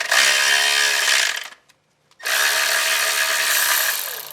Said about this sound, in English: There's 11mm nuts, so I'm going to take all these nuts off.